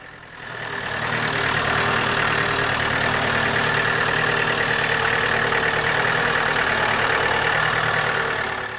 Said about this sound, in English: be aware of the forklift